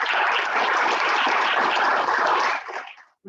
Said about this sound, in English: So let's give David a round of applause.